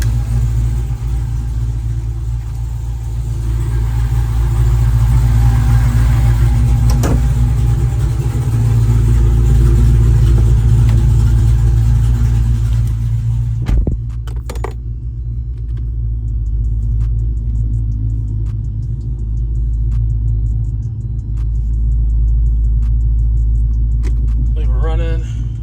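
A repaired Hellephant engine idling without revving, a deep steady rumble running close and loud for most of the stretch, then cutting out, with brief talking near the end.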